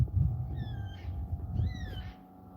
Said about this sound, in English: Those birds you just heard crying then, they're black cockatoos.